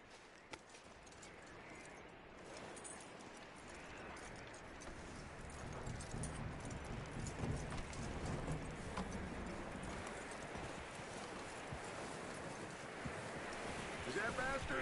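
Horse hooves clip-clop steadily in a video game, an even walking rhythm over ambient surf and wind, with game sound effects around them and a voice speaking now and then.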